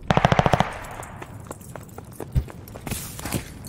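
Rapid automatic gunfire rattles loudly at a contested hard point in a video game, a dense burst followed by scattered shots, footsteps and a heavier impact, with more firing near the end.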